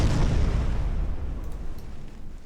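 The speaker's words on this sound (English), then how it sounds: "Oh, the torpedoes!" Torpedo explosions in a naval strategy video game: a loud, deep rumbling blast that fades slowly over a couple of seconds, heard on its own without voices.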